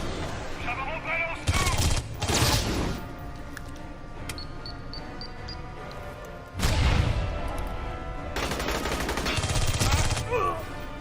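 Machine gun fire in the shooter game Aliens: Colonial Marines, bursts of rapid shots breaking out over a constant background of game sound, with heavier volleys near the start and middle.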